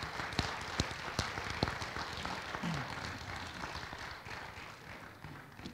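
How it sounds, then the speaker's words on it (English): Audience applause for student musicians at a spring 2022 university robing ceremony, a steady wash of many hands clapping with sharp individual claps standing out near the start, continuing evenly throughout. "Go ahead and give them a round of applause."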